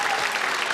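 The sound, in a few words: comedy audience clapping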